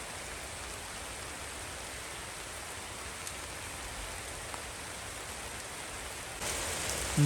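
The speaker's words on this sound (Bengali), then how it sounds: "এই হচ্ছে বছরের প্রথম বৃষ্টি হ্যাঁ মানে অফিসিয়ালি বৃষ্টি কারণ এটা ভালো মতো বৃষ্টি হইতেছে" Dense, heavy rainfall makes a constant roaring hiss that grows noticeably louder near the end.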